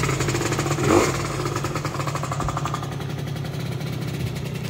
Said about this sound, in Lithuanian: Va, mopedas dirba.